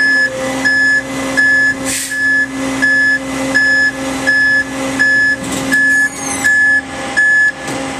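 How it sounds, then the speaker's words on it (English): A fire truck outrigger jack lowers toward the ground while a loud warning beeper sounds in an even repeating rhythm over a constant mechanical hum, with no talk. "If I bring that jack down to the ground"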